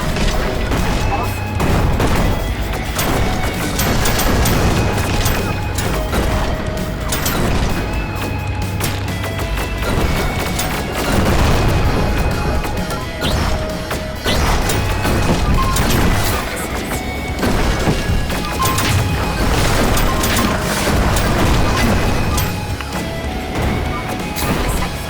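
Missile explosions in the Rogue Flight video game, a dense barrage of crashing blasts and booms repeating loudly across the whole stretch without letup.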